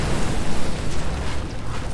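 Rolling explosions in the World War II shooter Medal of Honor: Allied Assault, a dense, sustained rumbling roar of blasts with repeated booming surges, loud and continuous throughout.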